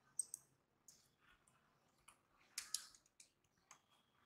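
Light clicks of typing on a computer keyboard, scattered irregular keystrokes, faint and close, with no voices.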